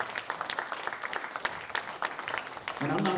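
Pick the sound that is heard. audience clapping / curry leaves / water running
audience clapping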